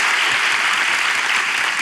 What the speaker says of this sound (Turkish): Alkış dünya güzeli kardeşlerime.